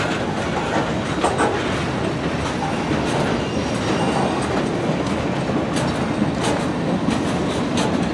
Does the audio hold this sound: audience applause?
no